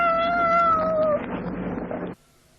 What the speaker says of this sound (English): Yes, it's a tame cat.